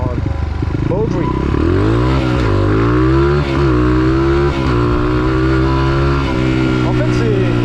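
A kitted 120cc PPR moped engine drones loudly and continuously while riding, its pitch rising and dipping as the throttle shifts, close and dominant throughout.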